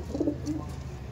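A single brief, low pigeon coo rolls out nearby from a large flock kept for racing tournaments, fairly quiet and unaccompanied by talk.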